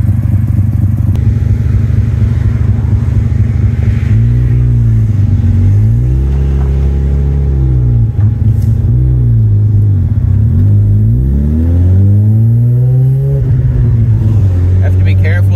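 A car with a freshly rebuilt engine runs loud and close: it starts with a low rumble, then rises and falls through several revs, the pitch climbing and dropping in smooth swells.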